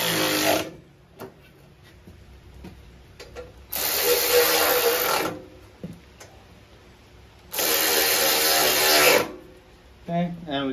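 Bursts of a power tool snugging down 3/8 bolts on a lawn mower, two loud whirring runs of about a second and a half each, with quieter handling clicks and rattles between them.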